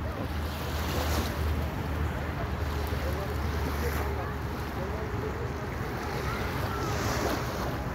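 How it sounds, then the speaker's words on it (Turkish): Sea surf and wind on a sandy beach make a continuous broadband wash. Waves roll in softly and wind buffets the microphone, all fairly loud with no clear voices. "kumsalda oturuyorum böyle"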